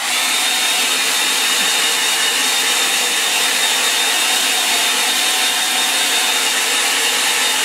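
A hair dryer blows continuously at close range, a steady, loud whooshing drone with no breaks and no talking.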